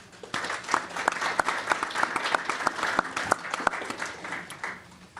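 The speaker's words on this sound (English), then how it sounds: "I think they definitely deserve a round of applause." A live audience at the Paley Center for Media in New York applauds the programming team, moderately loud clapping with sharp individual claps standing out, tapering off at the end.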